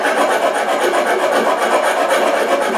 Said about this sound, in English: And then you're just going to hold your trap down and simply start filing.